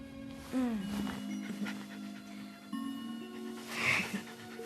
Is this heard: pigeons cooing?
no